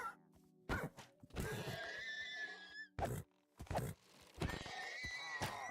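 A horse neighs in the video game Minecraft, giving several loud, drawn-out whinnies with a falling, wavering pitch, separated by sharp thuds and short gaps.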